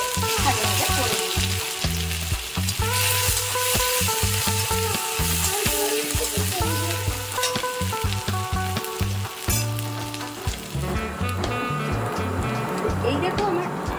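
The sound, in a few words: crushed ginger and garlic frying in oil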